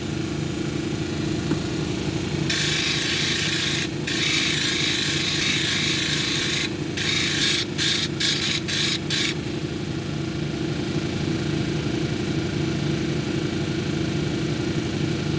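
A rhodonite cabochon is ground on a 280 grit wheel: a steady motor hum runs throughout while bursts of bright, hissing grinding come and go as the stone touches the wheel, ending in several short contacts.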